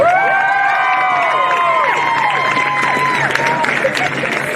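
A large crowd at a women's football cup final cheers and applauds loudly, with high whoops and shouts over sustained clapping.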